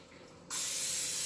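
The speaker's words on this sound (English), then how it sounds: "I am going to add some cooking spray" Cooking spray hits a comal griddle over medium heat: after a short quiet moment, a single steady, loud aerosol hiss starts abruptly and continues to the end.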